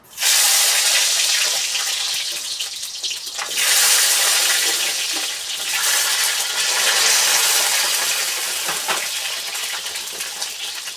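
Thin eggplant slices drop into hot oil in a home kitchen, setting off a loud, continuous hissing sizzle that swells and eases slightly over several seconds, with no talking.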